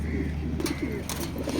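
A female racing pigeon coos in low, soft, repeated notes, close by, over a steady background hum with a few faint higher chirps.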